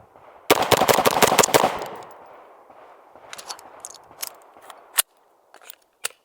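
Suppressed 5.56 rifle shots through a Q Southpaw suppressor fire in a fast burst of sharp cracks, followed by scattered single reports and faint clinks, close and loud against a quiet outdoor range.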